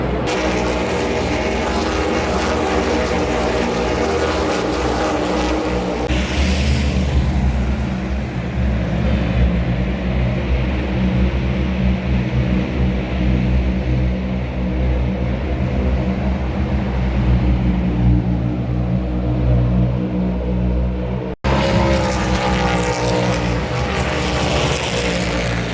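NASCAR race cars roar past at Watkins Glen during the Go Bowling at the Glen race, a continuous loud wall of engine noise with rising and fading pass-bys heard from a trackside terrace.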